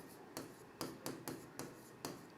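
Chalk or marker strokes on a board during a lecture, about six short, distinct scratching taps at an uneven pace, close and faint with no talking.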